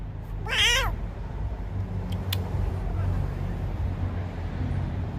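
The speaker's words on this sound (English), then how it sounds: "Both of these cats belong to somebody." A cat gives a single clear meow near the start, outdoors among other cats being fed, with a low steady traffic rumble continuing underneath.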